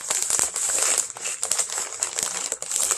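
Close, busy crinkling and rustling of gift-wrapping paper being handled and pulled apart, with quick crackly bursts throughout.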